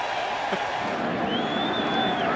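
A baseball stadium crowd cheers a run with a broad, sustained roar that holds steady throughout, and a faint whistle rises above the noise partway through.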